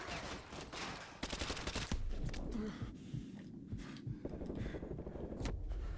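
Gunfire in the video game Call of Duty: Modern Warfare 2, heard as a dense burst of repeated shots and impacts, fairly loud and continuous across the clip with brief gaps between volleys.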